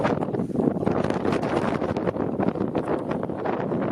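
Strong outdoor wind buffets the microphone in a steady, loud, rumbling roar with gusty surges throughout.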